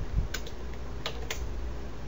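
Computer keys are pressed for a copy-and-paste shortcut, with a few crisp, close clicks in quick succession over a steady background hiss.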